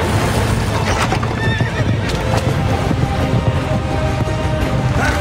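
Horse hooves gallop in a steady clip-clop rhythm with sharp whinnies in the Assassin's Creed Revelations video game, loud and close over a dense game soundscape with no talk.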